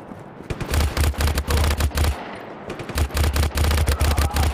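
Loud, sustained automatic gunfire from the video game Just Cause 3, rapid bursts rattling almost continuously with short breaks between volleys.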